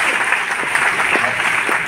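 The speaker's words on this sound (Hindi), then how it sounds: "इनके लिए एक बार तालियां बजा दीजिए" Brief burst of audience clapping at a Hindi poetry gathering (kavi sammelan), dense and steady over two seconds with no speech.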